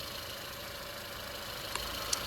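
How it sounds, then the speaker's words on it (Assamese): Petrol engine of a Kia Carens Luxury Plus idling, a steady, fairly quiet hum with a smooth, even tone and a couple of faint ticks near the end, heard without speech. "চাবিপাত বাহিৰত লৈ আহিছোঁ যিহেতু সেইকাৰণে গাড়ীখনে এনেকৈ মাত দি আছে ইঞ্জিনৰ কণ্ডিশ্যন চাওক"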